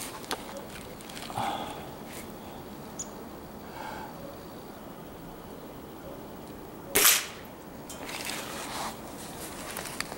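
A Gamo .177 air rifle fired at a target in a backyard, a single sharp crack standing out over steady outdoor background noise.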